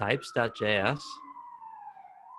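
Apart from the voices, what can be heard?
siren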